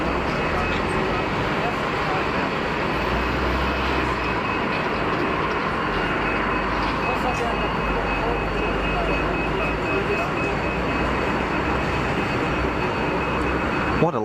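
A Boeing 737-800 taxis to its stand at Geneva Airport, producing a continuous broad jet-engine roar and rumble that holds steady and loud throughout.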